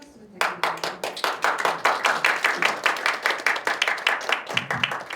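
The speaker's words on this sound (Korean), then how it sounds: "큰 박수 부탁드립니다." An audience claps to welcome a speaker onto the stage at a Korean entrepreneurs' forum: dense, steady applause with distinct individual hand claps, rising quickly after a brief pause and holding at a close, even level.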